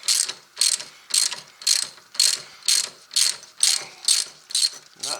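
Ratchet wrench clicking steadily on a wheel nut of a Can-Am Outlander ATV during wheel bearing service, about ten crisp, evenly spaced bursts of ratcheting close to the mic with nothing else heard.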